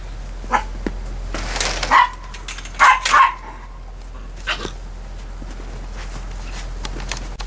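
A small dog barks outdoors in the snow: a few scattered barks near the start, then a louder cluster of sharp yaps in the middle, over a quiet low hum and light rustling.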